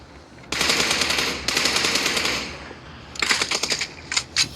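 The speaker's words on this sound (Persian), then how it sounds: "20 تا تیر زدم" Gunfire in the video game PUBG, a rapid burst of automatic shots for about two seconds, then after a short pause several quicker clusters of shots, with nobody talking.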